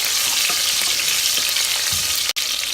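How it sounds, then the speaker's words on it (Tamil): Onions frying with salt in a pan for sambar rice give a steady, close sizzle with light stirring scrapes and a brief dropout near the end; no one speaks. "அதனால் இது வெங்காயம் வதங்கிறதுக்காக மட்டும் நம்ம இந்த உப்பு சேர்த்து நல்லா வதக்கிடலாம் கம்ப்ளீட்டாக"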